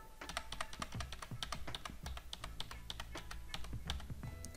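Computer keyboard keys are pressed in a rapid, steady stream of crisp clicks, close and clear, with no talking.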